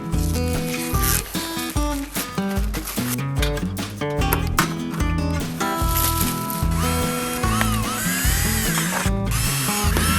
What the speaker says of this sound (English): I'm going to start just drilling holes where we need to drill holes.